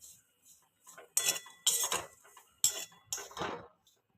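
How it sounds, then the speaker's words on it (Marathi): Grated coconut being dry-roasted in a pan for karanji, a spoon or spatula scraping and tapping against the metal in a few separate strokes, close and fairly quiet, with no talk. "आता आपण खोबरं भाजून घेऊया हेही छान बदामी कलरमध्ये भाजून घ्यायचं आहे"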